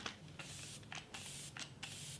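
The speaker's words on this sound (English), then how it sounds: "I really like setting sprays with the aerosol kind of top because they usually tend to be more fine" An aerosol makeup setting spray releases a few short, fine hissing bursts, quiet and close, with brief pauses between puffs.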